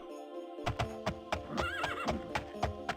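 A horse in the video game Daggerfall Unity whinnies loudly near the middle while steady, rhythmic hoofbeats clip-clop throughout, with no one talking.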